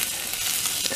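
Green beans stirred and frying in a saucepan give a steady, close hiss of sizzling oil that runs unbroken from start to finish, with no voices.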